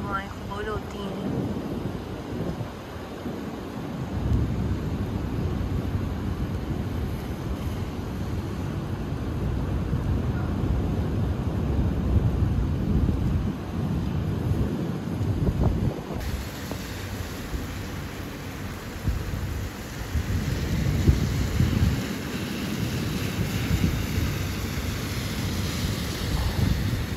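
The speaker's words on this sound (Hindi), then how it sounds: "बारिश तेज़ हो गई है अभी, बहुत तेज़ हो रही है बारिश।" Heavy rain during a UAE storm, a continuous dense hiss of downpour with strong wind buffeting the microphone and a steady roar throughout, while a voice speaks intermittently over it.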